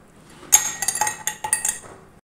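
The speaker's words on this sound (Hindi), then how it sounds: "सबसे पहले हम बर्फ डालेंगे" Ice cubes dropped into a glass while making cold coffee, a quick run of close, bright clinks and clatters lasting under two seconds, with no talking.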